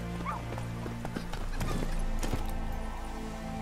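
Hooves of the horse Roach in The Witcher 3 clip-clopping in a steady rhythm over a dense game soundscape with low music and ambient layers, a brief whinny near the start.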